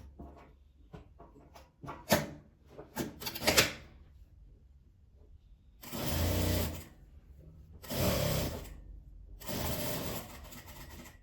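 Sewing machine stitching the sides of a small fabric drawstring-style bag, a few short clicks and taps at first, then three separate bursts of steady motor whir, each lasting about a second, close and alone.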